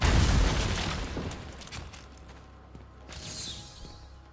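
A loud detonation bursts open a wall in Batman: Arkham Asylum, a heavy boom at the start that fades into a rumbling debris tail, with faint clatter and a late hiss.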